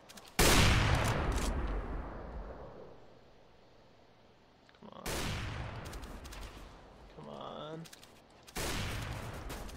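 Bursts of rapid gunfire from the CS:GO deathmatch game, loud and close, in three clusters separated by quieter gaps, with a short tonal sound near the end.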